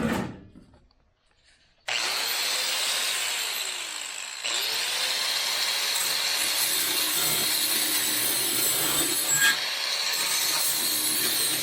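A power tool cuts sheet metal during rusty car door body repair, a sustained loud grinding whine starting abruptly after a quiet pause, with slight pitch dips as the blade loads, close by.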